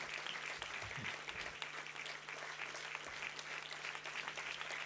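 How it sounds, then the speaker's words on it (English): An indoor audience at a university convocation ceremony applauds a best-performer award, with dense, steady clapping that continues at an even level throughout. "Get the applause louder. The loudest possible applause that you can bring on."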